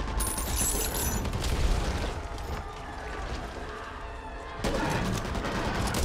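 Gunfire in Back 4 Blood, a dense, continuous rattle of shots and booming impacts over a noisy battle din, swelling louder toward the end.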